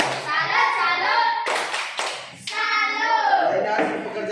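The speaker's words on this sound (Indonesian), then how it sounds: "Tepuk tangan untuk anak-anak." Children and an audience clap together in a classroom, a steady burst of hand claps mixed with children's voices and brief chanting throughout.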